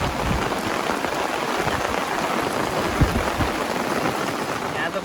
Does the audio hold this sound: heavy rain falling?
yes